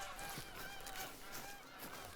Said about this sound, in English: Oh, that's the geese.